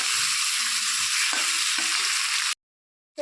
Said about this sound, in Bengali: টমেটোটাকেও আলুর সঙ্গে ভেজে নেব